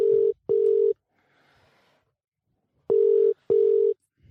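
Phone ringback tone on a call: two pairs of steady beeping tones, each pair two short bursts, separated by a quiet pause with faint background hiss.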